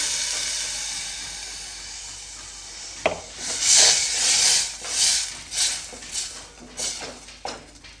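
Ground tomato goes into a hot pan for rasam and sizzles, a sharp splash followed by bursts of hissing steam that rise and fade in irregular pulses, loud and close.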